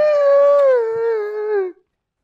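A man imitates a dog's howl with his voice, a single sustained, wavering wail held for nearly two seconds before cutting off abruptly, loud and close with no other sounds.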